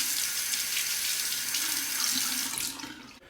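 A kitchen or bathroom tap runs steadily while a stainless-handled razor is rinsed under it, a close, continuous hiss of water that cuts off abruptly at the end.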